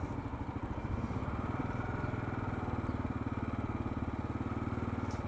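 Kawasaki KLR 650 motorcycle riding through Waikiki, Hawaii, its single-cylinder engine thumping steadily and close throughout, a loud constant drone with rhythmic pulses and no talk.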